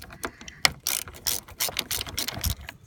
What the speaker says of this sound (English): I'm gonna use the wrench right here to make it easier on my weak hands